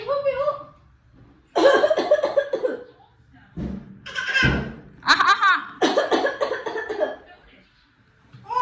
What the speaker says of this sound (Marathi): खोकला करून दाखव ग